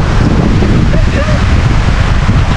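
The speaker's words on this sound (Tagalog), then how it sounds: "Malakas ng hangin" Strong wind roars into the microphone on a farm in Valåst, Porsgrunn, Norway ahead of a storm, a loud, constant rushing buffet with no pauses.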